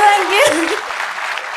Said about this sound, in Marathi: एकदा टाळी वाजवा दोघांसाठी.